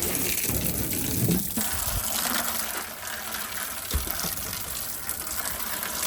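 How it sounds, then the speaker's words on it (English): A steady jet of water gushes and splashes while rinsing dirt and droppings out of a chicken coop, continuous and fairly close with no talk. "Just a jet of water in there rinses all the dirt or the poop from the roo sitting up on there."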